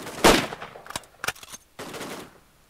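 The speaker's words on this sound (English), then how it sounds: "We're both sniping you repeatedly." Bursts of automatic and sniper gunfire in an online shooter video game, several sharp reports in quick succession with a loud opening burst, close and punchy.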